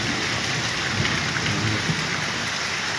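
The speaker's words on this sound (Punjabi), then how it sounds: "ਬੱਦਲ ਵੀ ਵੱਜਦਾ" Heavy midday July rain pours steadily on a main street while thunder rumbles low in the background, a constant wash of storm noise without speech.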